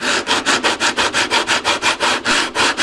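Foam on a model T-50 jet missile is sanded in quick, even back-and-forth strokes, a loud, close rasping rub repeating about five times per second with no talk.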